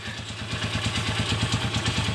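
A motorcycle engine idles smoothly with its timing gear turning, a steady even putter with a light mechanical clatter, close and moderately quiet with no talk.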